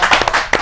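A brief burst of audience applause at a Hindi comedy poetry gathering, a short close patter of several hands clapping together.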